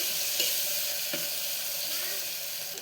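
Tomato drops into hot oil for a cabbage dal, giving a steady bright sizzle and hiss with a few faint stirring clicks. The frying stays continuous and close throughout.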